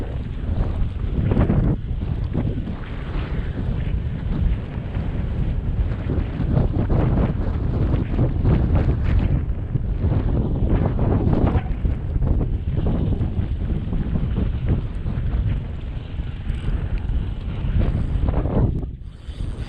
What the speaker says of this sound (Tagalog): Lakas ng hangin, grabe.